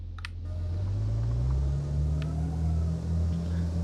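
Off-road vehicle engine straining in the video game Up'N'Up: Mountain Express, a steady low droning rumble whose pitch slowly rises as it labors, loud and continuous, with a faint brief click near the start.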